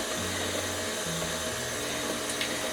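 Electric kitchen mixer briefly creaming butter and sugar for pecan ball cookies, a steady loud whirring motor hum that holds evenly throughout, with no talking.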